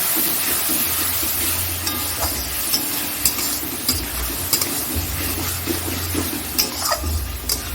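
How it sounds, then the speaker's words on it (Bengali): Masala being sautéed in a pan while cooking ghugni, a steady sizzle with repeated stirring and scraping sounds and occasional light clinks, close and continuous with no talk. "এবার সেটা ভালো করে কষিয়ে নিই"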